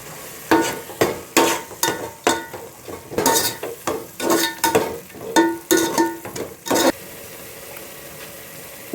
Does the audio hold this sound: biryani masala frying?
yes